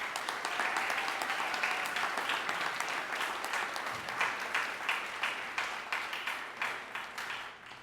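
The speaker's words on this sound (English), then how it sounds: "So give yourself a round of applause" Graduation crowd applauds for a class of 2025 on a Brooklyn campus, a broad wash of clapping that holds steady, then gradually thins and fades toward the end.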